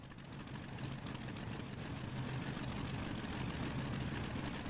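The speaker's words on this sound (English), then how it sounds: "I said let's get this engine started." A WWII-era open-cockpit plane engine in IL-2 Sturmovik runs steadily after start-up, a low, rough, continuous rumble at a quiet level, with no voices.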